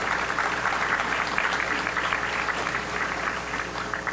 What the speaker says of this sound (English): if you would give yourself a big round of applause for what a tremendous turnout.